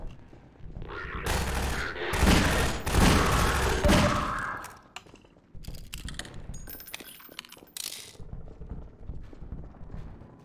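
Gunfire in the video game Half-Life 2, loud bursts and clattering shots early on, then thinner scattered pops and noises under game ambience, with no one talking.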